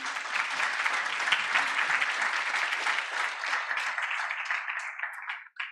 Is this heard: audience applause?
yes